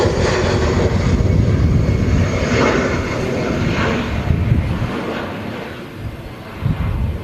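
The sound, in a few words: EasyJet A319 airliner taking off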